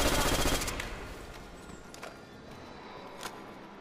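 A machine gun fires in Call of Duty: World at War's Nacht der Untoten zombies mode, a loud rapid burst for about half a second before the sound drops to quiet game ambience with a few faint clicks.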